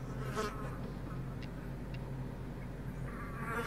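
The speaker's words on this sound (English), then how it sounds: "There's a bee. There's a lot of bees." Swarm of bees buzzing steadily in a VR video game, a continuous close drone with a few brief louder passes, no talk over it.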